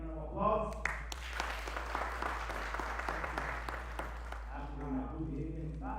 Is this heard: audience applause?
yes